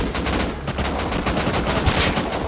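An auto turret in the video game Rust fires loud, rapid, unbroken automatic gunfire, close and harsh, with a constant stream of shots through the whole moment.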